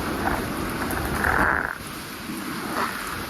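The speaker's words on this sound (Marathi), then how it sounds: "पाऊस जोरात पडतो आहे" Heavy rain pours down in a dense, continuous hiss, loud and close, with a brief stronger surge midway and no voices over it.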